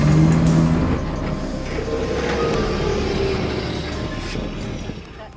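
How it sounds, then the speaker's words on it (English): An armored vehicle drives over rough terrain, its engine rumbling steadily with a loud whining tone at the start, then settling into a constant droning roll. "These women are trained for weeks on how to steer these armored vehicles in rough and dense terrains"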